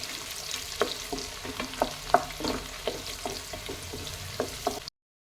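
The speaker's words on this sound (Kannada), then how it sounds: "ಈರುಳ್ಳಿ ಕೆಂಪಗಾಗಬೇಕು ಸ್ವಲ್ಪ, ಅದುವಾಗಲೇ ಟೇಸ್ಟ್ ಬರೋದು." Onions fry in a pan with a soft, steady sizzle while a utensil stirs and scrapes through them in irregular clicks, close by and fairly quiet, cutting off abruptly near the end.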